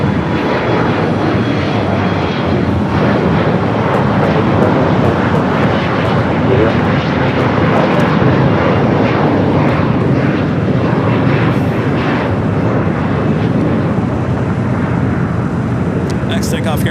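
A jet airliner roars down a runway on takeoff at LAX's south side, a loud continuous broadband rumble sustained throughout.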